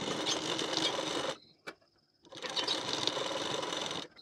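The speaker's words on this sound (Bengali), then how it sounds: "এখান থেকে একটি সেলাই দিয়ে নিতে হবে।" Sewing machine stitching blouse fabric while making a decorative tassel, running in two steady whirring bursts close by, split by a short pause with a single click.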